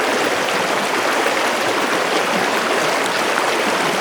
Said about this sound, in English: Even the sound itself will tell you that these are huge volumes of water.